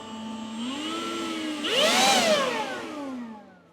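An electric blower with a brushless motor roars steadily in a woodworking shop, its pitch rising and surging louder midway as it is turned up, then easing off; no talking.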